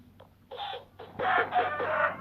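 Chickens cluck in a Minecraft-style block-building game, a few short clucking bursts at moderate level with a steady low hum underneath and no voices.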